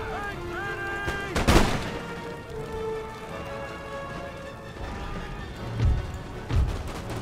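Volleys of musket and artillery fire in Empire: Total War boom out in a few sharp blasts, one heavy discharge early and two more near the end, over a steady battlefield din with a shouted command.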